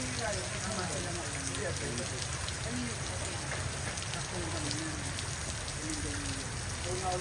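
Steady rain pours down in a continuous, even patter that fills every moment, with faint voices barely audible beneath it.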